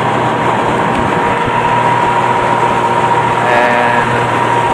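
A Yamaha 30 HP outboard on a small jon boat during a lake run, throttle eased up past half: a loud, continuous engine drone with a steady hum that rises slightly in the last seconds.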